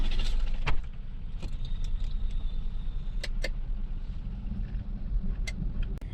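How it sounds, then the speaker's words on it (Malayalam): A car that had been placed for a temple puja during Navaratri idles and pulls away, its engine a steady low hum close by, with a few clicks and rattles of keys or interior parts. "നമ്മൾ പൂജയ്ക്ക് വെച്ച വണ്ടി എടുത്തിട്ടുണ്ട് കേട്ടോ"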